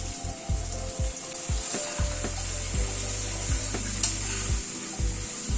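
Pointed gourd, beans and soya chunks sauté with spices in a pan, a soft sizzle under repeated low scraping strokes of a spatula at a steady rhythm.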